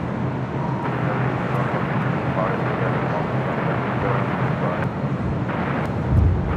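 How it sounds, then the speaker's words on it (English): A Boeing 787-9 Dreamliner arriving on the north side of LAX makes a broad, steady jet roar that fills the whole stretch, loud and constant, with voices talking over it. "787-9 Dreamliner is our next arrival on the north side"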